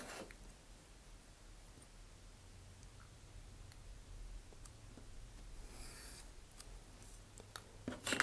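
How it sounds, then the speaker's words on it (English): Scissors snip through a paper template to cut out a wooden fin along the grain, giving faint, steady crisp cutting and rubbing close by with no talk over it. "When you're going with the wood grain, it's a little easier to cut."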